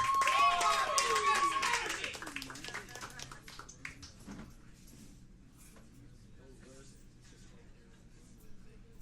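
An audience at a pub show claps and whistles loudly for a couple of seconds, then the applause fades into scattered claps and murmuring voices.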